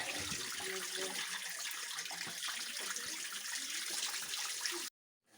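Spring water at a monastery spring near Krekhiv pouring steadily into a container, a close, even splashing stream that cuts off abruptly near the end.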